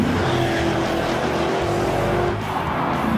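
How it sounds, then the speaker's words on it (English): A 470-horsepower SRT car engine runs loud and close with a deep, continuous roar and rumbling low harmonics, its pitch wavering slightly throughout and easing briefly near the end. "I love the sound of that engine."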